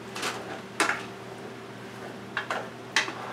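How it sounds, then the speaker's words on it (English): Beef and potatoes being stirred in a pot, with a few sharp utensil scrapes and clinks at scattered intervals over a quiet kitchen hum. "I'm going to go ahead and stir this stuff a little bit because it needs a little bit of attention"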